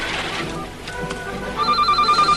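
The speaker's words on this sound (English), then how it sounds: "Debbie, phone." In an office, a telephone starts ringing partway through, a repeated electronic trill that grows loud after a brief stretch of background noise.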